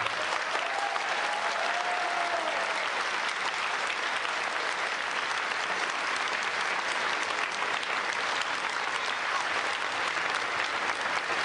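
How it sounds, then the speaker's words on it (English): Sustained applause from a large audience at the Global Peace Festival in the Philippines in 2007, a steady dense wash of clapping that holds at an even level for the whole stretch, with a faint voice briefly audible early on. "A rousing round of applause."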